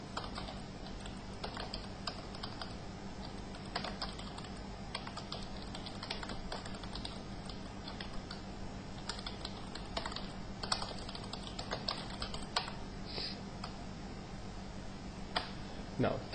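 Names are typed into MS Word 2007 on a computer keyboard, producing a long, steady stream of close, rapid key clicks with occasional heavier taps over a constant background hum.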